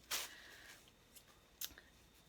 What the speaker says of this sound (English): So I'm gonna need my scissors because this is like well wrapped.